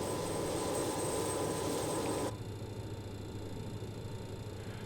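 BAe 146 auxiliary power unit in a flight simulator, a loud steady turbine roar and whine that drops abruptly midway to a quieter, lower hum, no talk.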